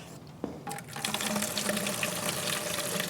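Cold tap water running steadily over potatoes being rinsed in a sink, starting with a few clinks and then pouring continuously and fairly close.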